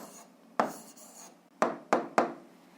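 Handwriting an answer to an algebra word problem, four distinct scratchy pen or chalk strokes with gaps between them, close and fairly quiet, no voices.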